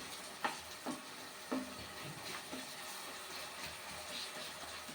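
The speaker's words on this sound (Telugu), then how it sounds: "టమాటాలు మనకి ఈ విధంగా వేగుతున్నాయి ఆయిల్లో" Tomatoes frying in oil for a fish curry give a steady close sizzle with a few soft stirring knocks near the start, and no one speaks.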